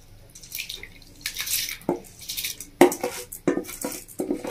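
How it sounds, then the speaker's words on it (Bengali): Washed rice goes into a pot of boiling water, making a scatter of pattering splashes, light clinks of a utensil against the pot and soft bubbling. The sounds are close and irregular. "এবার আমি দিয়ে দেবো ধুয়ে রাখা চালটা মিশানো।"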